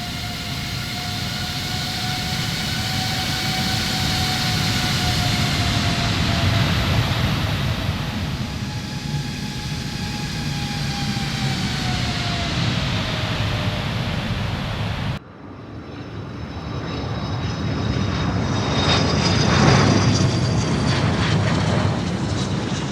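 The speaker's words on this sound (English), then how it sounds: "At 6:05 p.m., Flight 631 aligns on the runway and takes off within seconds" Korean Air Flight 631 airliner taking off from a runway, a loud steady engine roar with rising and falling whine tones that shifts abruptly partway through to a brighter, hissier rush, no voices.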